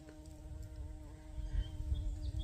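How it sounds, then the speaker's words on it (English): A bee hums steadily in a flower garden, a continuous drone heard close by over a rumbling outdoor background that holds throughout. "Oh, I hear a bee."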